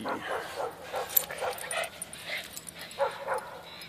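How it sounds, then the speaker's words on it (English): Dog making soft whimpers, yips and short barks in an irregular run, fairly close, with a person talking at moments alongside. "Where'd that dog go?"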